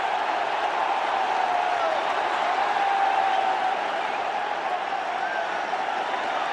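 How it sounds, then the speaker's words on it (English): A cricket stadium crowd cheering a wicket, a broad sustained roar of voices and applause, even and loud throughout. "The crowd here are on their feet."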